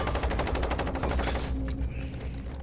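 A PKM machine gun fired from the hip in a hardcore video game match, a loud sustained burst of rapid automatic fire that cuts off, followed by fainter game noise.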